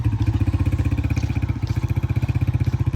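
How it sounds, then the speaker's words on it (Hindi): A motorcycle engine held in first gear with light throttle, giving a loud, close, rapid rhythmic thumping at a steady idle-like pace with small surges, no voices. "बाइक को पहले गियर में मैं लेके जा रहा हूँ और थोड़ी थोड़ी रेस दे रहा हूँ"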